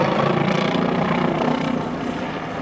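A Bo-105M helicopter flying aerobatics at a Red Bull air show makes a loud, steady rotor and turbine roar that fills the whole stretch with no break.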